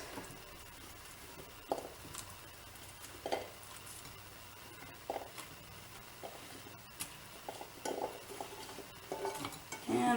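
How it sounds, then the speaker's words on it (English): Chunks of potato are dropped and stirred into a crock pot for a pork tenderloin meal, making scattered soft clunks and scrapes against the pot at an uneven pace, close by and fairly quiet. "I usually put in my potatoes next."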